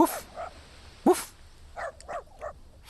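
A dog barks in the video game At The Voices End: a few sharp, close barks, the loudest near the middle, followed by softer yips and whimpers.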